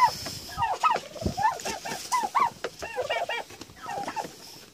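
Chickens cluck and squawk repeatedly in a coop, short overlapping calls, fairly close, with a busy, restless rhythm and faint background noise.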